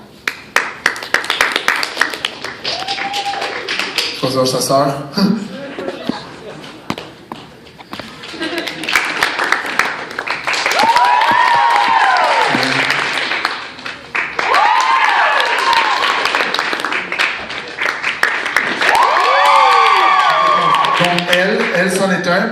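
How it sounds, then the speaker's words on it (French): Audience clapping and cheering at a hypnosis show at Université de Moncton, rising in bursts with whoops, mixed with a host talking over the crowd. "C'est votre choix par applaudissement, vous applaudissez les filles qu'on veut utiliser."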